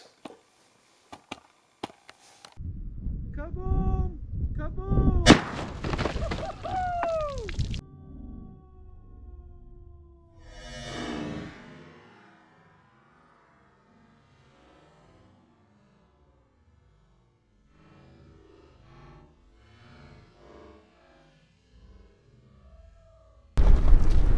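A .416 Barrett rifle fires at bottles: a cluster of loud, sharp blasts with ringing echoes comes early, then fades into a long near-silence before one more heavy shot at the very end.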